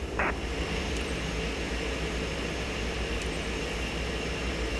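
A plane taxiing to the gate in Microsoft Flight Simulator 2024 gives a steady, unbroken engine drone with low rumble, holding level throughout with no voices.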